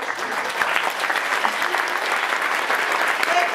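Warm, steady clapping from parents at a kindergarten event for a small child, a dense, close round of applause lasting throughout with cheerful voices mixed in.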